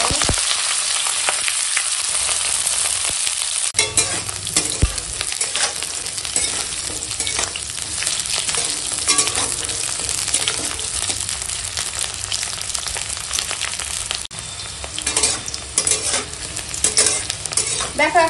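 Cauliflower fries in hot mustard oil in a wok, a loud, dense sizzle running throughout with frequent scraping and stirring strokes.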